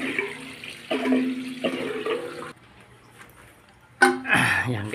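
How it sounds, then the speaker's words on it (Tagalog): Water drains from a toilet tank with the supply shut off while the leather flapper cup is being replaced, a rushing gurgle that swells near the end, with a voice speaking over the start. "Paubusan muna natin siya ng tubig."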